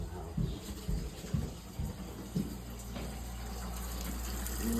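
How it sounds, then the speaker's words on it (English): Water runs steadily from a household tap after the shut-off valves are reopened, a continuous hiss and rush with some thumps and knocks early on, fairly close. "I knew I had the water on."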